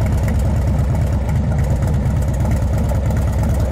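A Texas chopper motorcycle engine idles steadily nearby through a standard exhaust, a deep, even rumble with a fast low pulse that holds constant throughout.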